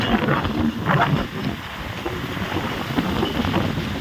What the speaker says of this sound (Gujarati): પવન ફૂલ આવે જો